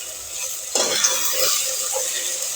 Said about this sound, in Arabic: هنديها بس تشويحه كده مع البصله